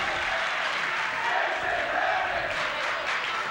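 A high school basketball crowd in a gym applauds and cheers after a long three-point shot, a loud, steady wall of clapping and voices lasting throughout.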